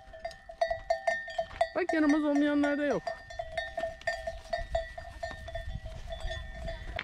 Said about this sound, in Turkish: O yüzden boynuna çan takmışlar kaybolma diye.